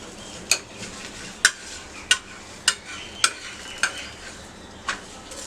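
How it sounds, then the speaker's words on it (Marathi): A paratha of raw banana sizzles on a griddle greased with ghee, with a soft steady hiss broken by about eight sharp clinks of a spatula or utensil against the pan, spaced roughly every half second to second. "तव्याला तूप लावून घेतलेलं आहे। पराठा घालून घेऊया।"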